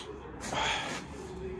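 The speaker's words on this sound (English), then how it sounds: "And I'm sniffling." A single short, breathy nasal sniff, fairly close and quiet, with faint room noise around it.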